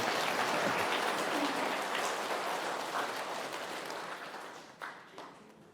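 Dense, steady clapping from a Catholic parish congregation on the feast of Christ the King, a continuous rain-like wash of many hands that gradually thins and fades out over several seconds.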